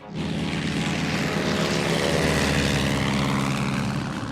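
A Fairey Swordfish biplane flown from the aircraft carrier Victorious drones overhead, its propeller engine a loud, steady throbbing roar that holds for several seconds.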